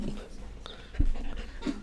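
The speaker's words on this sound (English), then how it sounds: "little puppy." A little puppy named Lily pants close by indoors in soft, quick breaths, with a couple of brief whimpers and a small thump partway through.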